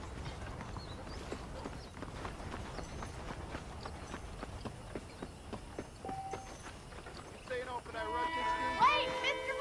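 Horses clip-clopping in the Western video game Red Dead Redemption, a busy patter of hoof hits under game voices and ambience, with a rising musical swell near the end.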